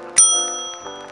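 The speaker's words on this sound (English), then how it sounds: "A bell." A bell chimes once in the I Spy Treasure Hunt video game, a bright, loud ring with a sharp strike that rings on and fades over about a second, with no talking.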